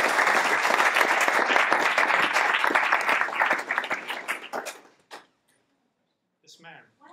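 An audience at an annual meeting applauds for several seconds, the clapping fading out to silence, then a short murmur of talk follows.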